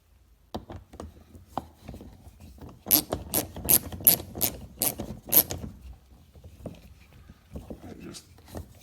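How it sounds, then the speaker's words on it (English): A ratchet turns bolts on a 2006–2013 Chevy Impala door panel, producing bursts of sharp mechanical clicks and clacks in quick, uneven runs, close by, with brief pauses between them. "Much easier with a ratchet."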